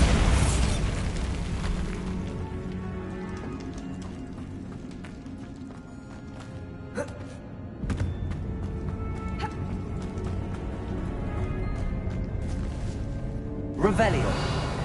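A Bombarda spell blast in the Hogwarts Legacy video game: a sharp explosive burst, followed by rumbling debris and scattered impacts under game ambience, with a second loud hit near the end.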